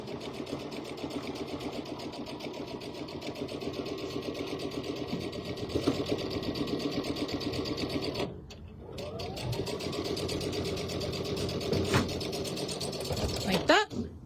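A sewing machine stitches down pom-poms in a steady rapid whirring chatter, with a brief pause midway before the motor resumes running continuously.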